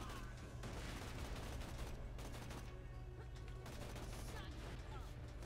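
Rapid gunfire and bursts of explosions in the shooter video game Borderlands 2, loud and continuous throughout with dense overlapping shots, and a voice briefly in the mix.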